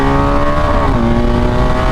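A 2021 BMW R 1250 GS motorcycle engine revs up loud and close, its steady harmonic drone climbing briefly in pitch and then holding, with no talk over it.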